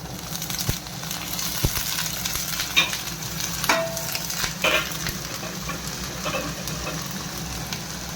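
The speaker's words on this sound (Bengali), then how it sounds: "এখানে একটু ভাজা ভাজা হোক, তারপরে দিয়ে দেবো এই যে বাঁধাকপিটা।" Vegetables stir-frying in a pan for chow mein, with a constant close sizzle and repeated scraping and clinking stirs throughout.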